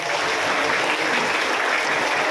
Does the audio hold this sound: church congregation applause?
yes